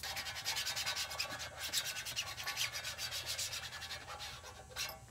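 Film is burnished onto an old frame by rubbing, giving a steady close back-and-forth scrubbing that sounds much like sanding and keeps going without a break.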